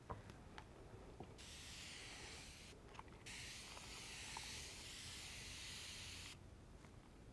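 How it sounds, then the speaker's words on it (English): An AquaMyst spray bottle releases long, soft hissing bursts of mist over an acrylic paint palette, two extended sprays separated by short pauses, quiet and close. "That right there just misted my paints for another 10-minute painting session."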